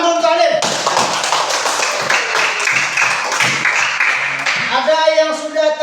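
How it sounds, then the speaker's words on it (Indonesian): Students in a classroom clap their hands together in rapid, rhythmic applause, a dense burst of close, loud claps lasting several seconds, framed by a teacher's voice before and after. "Tepuk tangan dulu untuk Alim."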